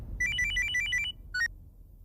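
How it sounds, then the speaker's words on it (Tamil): A mobile phone ringtone trills in a quick electronic melody, a run of bright repeated beeps followed by a short second burst, close and clear over a low background hum. "சிவா ஃபோன் பண்றாரு."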